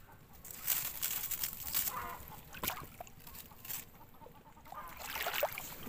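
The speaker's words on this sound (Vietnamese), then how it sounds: "Ở quê gà nó đẻ nó cục tác nó lạ làng vậy" A village hen clucks repeatedly after laying an egg, a loud rhythmic cackle mixed with other farmyard fowl calls, fairly close and with no speech.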